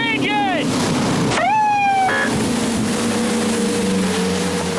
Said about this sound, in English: a renegade jet skier blasting through a restricted zone